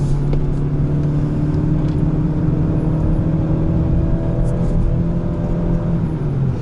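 A 2019 Mazda 3 with the 2.0-litre SkyActiv-G engine drives on the Sepang circuit, its engine droning steadily with a sustained cabin hum and faint whir and no talk.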